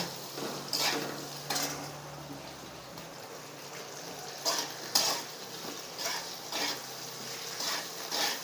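Potato slices are sautéed and stirred in a pan, with soft sizzling under repeated scraping and clinking strokes of a utensil against the pan at an irregular pace.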